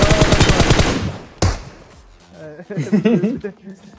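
Rapid gunfire in the battle royale game PUBG: a fast rattling burst of automatic shots for about a second, then a single sharp crack, followed by someone talking.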